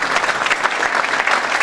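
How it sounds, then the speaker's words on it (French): Steady applause from an audience at a business panel in Morocco, a dense continuous patter of clapping hands filling the room without pause. "Vous pouvez les applaudir."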